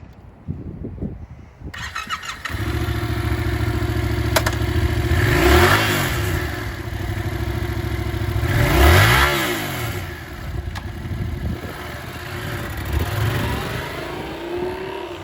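A used 2018 Yamaha MT-07 streetfighter twin motorcycle cranks and fires up close by, settling into a steady idle broken by two sharp revs that rise and fall, then a lighter blip near the end.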